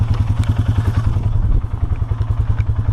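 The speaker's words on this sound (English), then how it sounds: "So I'm gonna do a riding video on our Polaris Sportsman 570 SP" A Polaris Sportsman 570 SP ATV engine chugs with a loud, close, rhythmic pulsing thump during a ride, and clattering accompanies it throughout.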